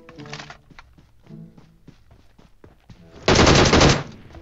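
Automatic machine gun fire from an MG3 in the mobile battle royale game PUBG Mobile: one dense, loud, sustained burst near the end, preceded by scattered lighter game clicks and thumps.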